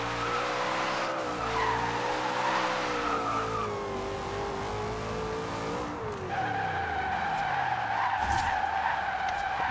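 Tires squeal steadily as a car drifts in Forza Horizon 2, the engine note rising and falling under a long, loud skid that shifts pitch partway through.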